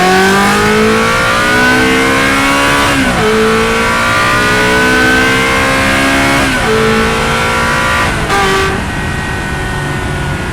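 A Ferrari fitted with a cheap titanium exhaust bought from Alibaba revs hard and loud, climbing in three long pulls that each drop off sharply before the engine surges again.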